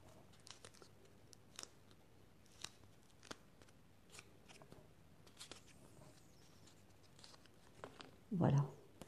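Scissors snip out a paper Christmas angel in short, soft, scattered cuts, faint and close, with a louder rustle of paper near the end.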